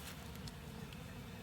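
Honey bees buzz around a package hive during installation, a faint, steady, low hum filling the whole moment with no distinct individual passes.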